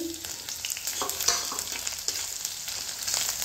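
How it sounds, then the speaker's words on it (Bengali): Ginger and washed lentils are fried in a pan with already-browned onion for khichuri, making a steady hissing sizzle with light stirring scrapes throughout, fairly faint and close. "আদাটা দিয়ে আমি ডালগুলো দিয়ে দিচ্ছি, ডালগুলো একটু ভেজে নেব।"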